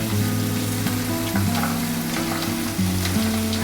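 Tomato, garlic, ginger and coconut sauté in hot oil for misal, giving a steady close sizzle with occasional stirring scrapes beneath a low background hum.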